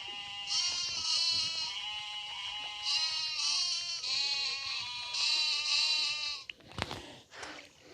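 Sheep bleat repeatedly in long wavering calls, fairly close, followed by a couple of sharp thumping hits, in the video game Mini World.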